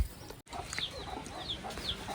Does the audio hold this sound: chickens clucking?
yes